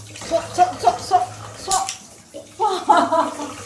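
Fish are washed in water with soap, with splashy sloshing and rinsing sounds in short bursts while a voice talks nearby.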